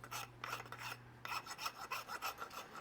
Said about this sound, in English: I'm just gonna gently break it with a file